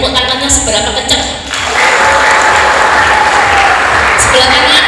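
The left side of an audience at a company family gathering breaks into loud, dense applause that swells and holds steady, with crowd voices mixed in.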